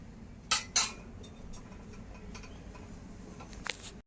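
Poppy seeds are dry-roasted in a pan for traditional gond laddoos: two sharp metallic clatters ring out close by, then soft scattered ticks and light scraping against a quiet background.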